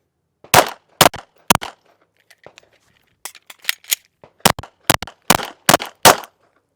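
Pistol shots fired from a proper shooting stance, sharp loud cracks in two bursts, three quick shots then a faster string of about nine, with faint mechanical clicks between.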